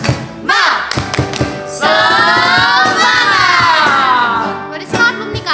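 Children at a Sunday school service perform a clapping chant, with rapid hand claps and shouted voices in unison, loud and close, with a sustained group shout in the middle.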